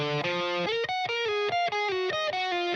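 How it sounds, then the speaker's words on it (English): A distorted electric guitar plays a choppy lead line of short, clipped notes with brief gaps between them, saturated and bright, with no voices. "here's the left guitar part that it's playing"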